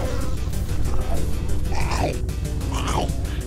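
Bees buzzing in the video game Enviro Bear 2000, a steady, loud, close insect drone lasting throughout, with a voice rising over it now and then.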